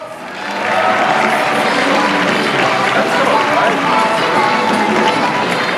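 An audience at a cosplay contest at the Supanova Perth 2015 convention applauds a contestant dressed as Foxy, in steady, dense clapping that swells in and holds for several seconds.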